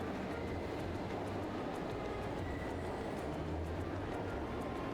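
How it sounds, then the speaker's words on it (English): An eastbound orbital train departing in a video game, a low steady rumble of rolling rail cars with faint repeated clicks, quiet and continuous, without voices. "This eastbound orbital train will be departing momentarily."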